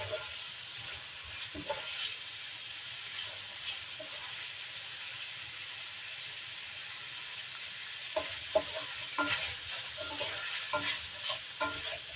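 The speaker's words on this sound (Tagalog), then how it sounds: "Mix lang natin. Mix well." Broccoli with white onion and a little black pepper stirred in a pan, a steady sizzling hiss with scraping utensil strokes that grow busier and louder toward the end, no voices.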